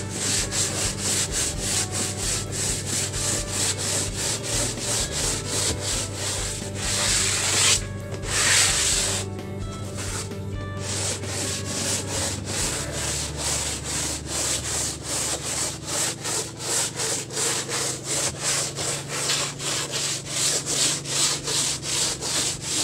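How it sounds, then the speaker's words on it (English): Sandpaper scrubbing the wall of a small wooden house in the Philippines, a loud, steady back-and-forth rasp that runs on with a brief pause, close and continuous with no talking. "We are doing sandpaper to the wall."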